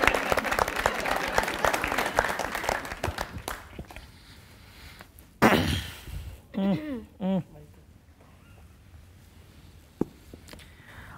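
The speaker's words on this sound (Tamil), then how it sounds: "அவங்களுக்கு கைத்தட்டு." A burst of TV studio audience clapping rings out for a few seconds, then fades as a person begins speaking Tamil close to the microphone.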